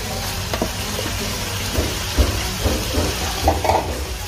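Dried rice noodles stir-fried with seafood and plenty of vegetables and white scallion in a pan, a loud, close sizzle with repeated stirring and tossing scrapes in an uneven rhythm; no talking.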